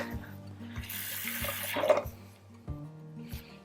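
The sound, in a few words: hot water running from a tap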